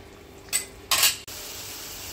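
Spiced mukundi fish curry gravy with mustard paste being stirred in a pan, two brief scraping clinks of a utensil against the pan over a quiet steady background, no talking.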